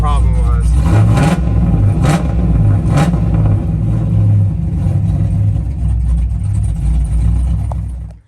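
A 2002 Pontiac Trans Am WS6 V8 runs steadily after a fuel tank drain and refill, its loud low engine note holding a rough idle with a few sharp revs early on, close to the car.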